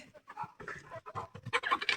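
A hen clucks repeatedly after laying eggs in a village coop, a run of close, moderately loud clucks and cackles that grow busier and sharper toward the end.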